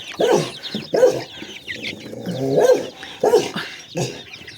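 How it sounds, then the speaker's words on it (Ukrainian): Roosters cluck and call close by in short bursts, several vocalizations spaced across the moment with no speech. "такі спокійні мої півні"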